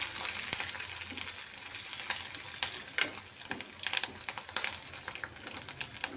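Ridge gourd with coriander and curry leaves stirred in a hot pan: a steady close sizzle with rapid, irregular clicks and scrapes of a spoon against the pan throughout.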